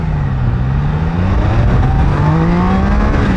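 A motorcycle pulls away under hard acceleration, its engine note climbing steadily in pitch as it revs up, loud and close, with no talk over it.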